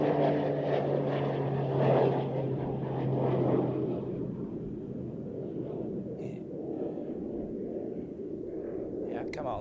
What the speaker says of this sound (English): That looks like a PC-12 indeed.